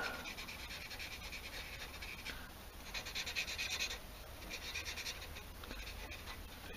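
Grinding tool rasping down a high spot on a dirt bike engine case, a steady, bright scratching drone with slight swells in intensity throughout.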